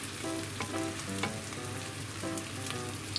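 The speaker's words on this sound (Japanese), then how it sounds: "押さえつけてまんべんなくね焼き色が入るようにちょっと潰してあげて大丈夫です。" Fried tofu pouches stuffed with enoki mushrooms and pork pan-fry in oil while being pressed down to brown, giving a steady close sizzle with a soft tonal bed underneath.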